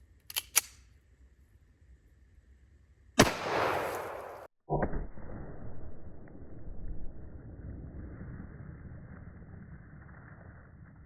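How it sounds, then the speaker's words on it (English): A .45 pistol and a Star SS .380 pistol fire at red and blue water jugs outdoors: a couple of faint early cracks, then a loud sharp shot with a long splashing, ringing tail. "we're going to shoot the red jug with the 45, and we're going to shoot the blue jug with the 380."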